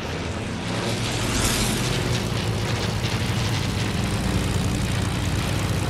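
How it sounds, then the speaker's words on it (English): A propeller airplane flies past in a shooter video game, with a loud continuous roaring engine drone that swells slightly and holds steady, with no talk over it. "Yo, there's a plane."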